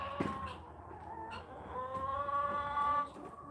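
Chickens on a farm cluck and call softly at a distance, with several drawn-out bird calls layered over a quiet, steady background.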